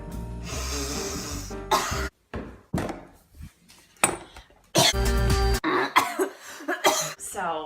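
A young woman coughs in repeated loud, close bursts separated by brief pauses, the fits stretching across the whole stretch with some throat clearing mixed in.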